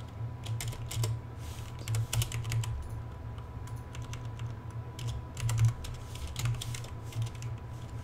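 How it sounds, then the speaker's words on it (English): Quick, light typing on a computer keyboard, with bursts of close clicking keystrokes and short pauses over a low steady hum. "so I can type here"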